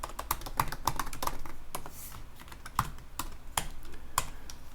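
Fast typing on a computer keyboard while coding a Ruby on Rails site, with quick clustered keystrokes and brief pauses, close and fairly quiet, with no talking.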